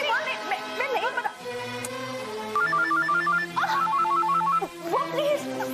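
A telephone ringtone in a Hindi TV comedy household scene plays as a repeating electronic melodic pattern, loud and close, with other sounds and voices around it.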